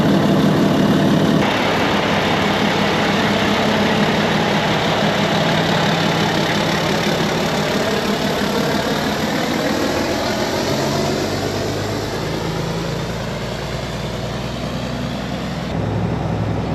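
Truck engine idling in a steady, loud, dense rumble heard close by for the whole stretch, with no talk over it.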